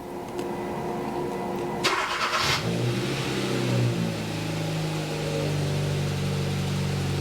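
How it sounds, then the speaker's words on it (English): A known good car engine cranks briefly and catches, then settles into a steady, healthy idle with a low continuous rumble, close and fairly loud throughout. "make sure everyone understands what a known good engine starts and sounds like"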